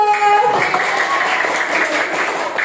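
Children clapping together in a classroom, a dense burst of applause that rises sharply and holds steady for a couple of seconds, close and fairly loud.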